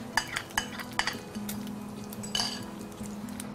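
Omelette mixture with potato and a little cheese going into a pan, with a few sharp clinks of utensil against the pan at the start, then a soft, steady low sizzle and a brief scraping clatter near the middle, no talking.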